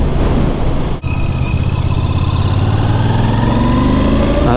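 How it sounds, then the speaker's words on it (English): A Royal Enfield Bear 650 motorcycle engine runs loud and close, a steady throbbing drone whose pitch climbs gradually as revs rise, with no voices over it. "Now that engine, it's an absolute peach for Royal Enfield."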